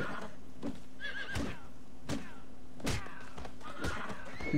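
Horse whinnies and neighs in the Steed prototype game, several calls spread across the stretch alongside thudding hoof stomps, with a steady low hum underneath and no talking.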